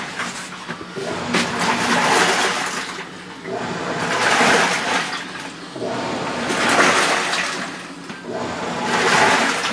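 A Black & Decker portable washer washing clothes, a continuous churning of water and motor that swells and eases in slow repeating cycles, loud and close with no voices.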